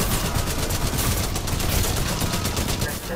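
Rapid automatic gunfire from a Titanfall 2 firefight rattles loud and continuous, dense and unbroken throughout.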